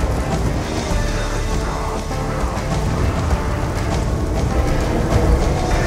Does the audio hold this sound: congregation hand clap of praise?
no